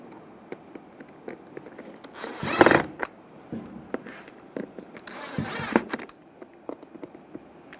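Screws being tightened by hand into a center console hinge repair kit on a 2007-2013 Chevy Silverado, with faint ratcheting clicks and two louder bursts of mechanical rattling in a quiet garage.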